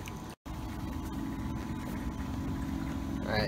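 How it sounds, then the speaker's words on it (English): Water runs steadily into a greenhouse wicking-system reservoir fitted with a float valve, a continuous close rushing wash with a short dropout near the start and no talk over it. "you can see the water is running there"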